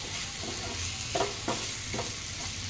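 Spice-coated food is stirred in a frying pan over a steady sizzle, with about three distinct scraping strokes of the spoon rising above the frying noise.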